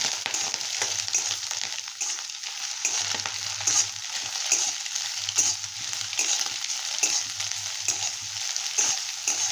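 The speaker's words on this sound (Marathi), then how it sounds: "शिमला मिरची टाकून घेऊया कांदा गाजर मिरची आता हे मस्त असं भाजून घेऊया सगळं" Onion, capsicum, carrot and chili roasting in a pan with egg for fried rice made from leftover rice, giving a steady close sizzle with intermittent stirring scrapes throughout, no voices.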